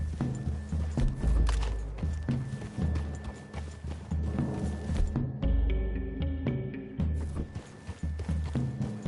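Horse hooves clip-clop steadily through the trees in a PS4 Western video game, a continuous rhythmic plodding of several mounts close by, mixed with ambient game sound and a passing whinny.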